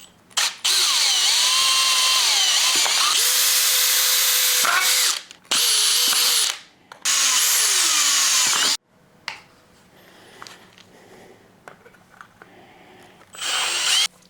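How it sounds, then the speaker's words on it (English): Power drill boring into a Traxxas XRT RC truck chassis, several loud whining bursts with stops and restarts in between, followed by quieter handling clatter and then one last short burst. "To drill into the chassis"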